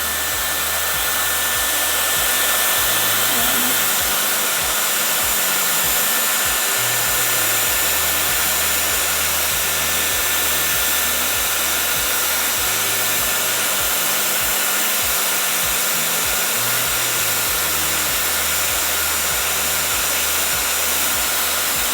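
A Dyson Airwrap hair styler runs on its highest heat and power settings, giving a loud, steady, close-up rush of blowing air. It holds unbroken for over twenty seconds with slight fluttering as the airflow moves across the hair.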